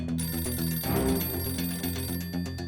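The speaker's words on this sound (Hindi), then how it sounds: "ये फोन बिना कभी भी आ जाता है।" A telephone rings continuously with a bright, trilling electronic tone, loud and close, with no talking over it.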